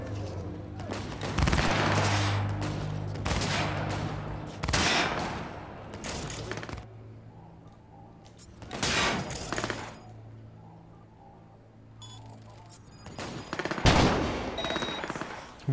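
Gunfire aimed at the player in Cyberpunk 2077, heavy automatic bursts and volleys coming in waves with quieter pauses between, loud and close, with a few faint beeps near the end.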